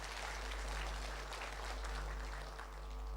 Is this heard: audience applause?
yes